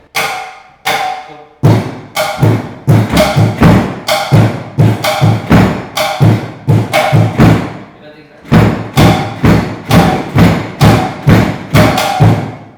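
A drum set built from recycled cans is struck in a fast, steady rhythm of sharp, loud hits with a deep kick-like thump, pausing briefly twice before resuming.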